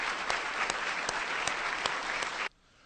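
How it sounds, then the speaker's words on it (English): Audience applause at a National Press Club address, a steady dense clapping from a seated crowd for about two and a half seconds before cutting off abruptly. "Let's give them a round of applause."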